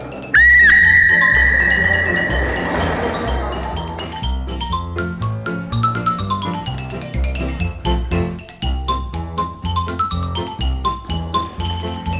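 A referee's whistle sounds one short, sharp, loud blast to start a team race at an outdoor relay competition. Lively music with a bouncing beat follows right after.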